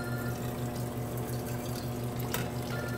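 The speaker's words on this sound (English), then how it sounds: "with hot water. Fill it up about halfway." Hot water runs steadily into a pitcher for coffee preheating, a continuous close splashing rush with a brief brighter splash partway through.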